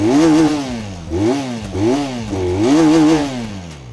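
The underbelly exhaust of a 2021 Benelli TRK 502 BS6 motorcycle is revved loudly and close up, three or four rising and falling blips of the throttle between idle dips.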